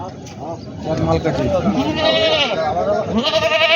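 Goats bleat repeatedly in wavering cries, close by and fairly loud, mixed with people talking in a busy outdoor crowd at a goat market in Parbhani.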